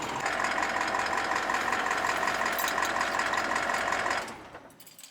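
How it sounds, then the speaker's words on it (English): A loud RV engine idles in a steady, rough, even drone, then cuts out sharply near the end and leaves a quiet tail. "I've gotten used to the sound of the engine."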